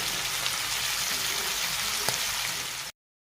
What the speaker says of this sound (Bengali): লঙ্কাগুলো সব দেওয়া হচ্ছে, কালার লঙ্কা ক্যাপসিকামগুলো সব দিয়ে টমেটোটা দিয়ে দেওয়া হলো, সব একসঙ্গে ভাজা হচ্ছে।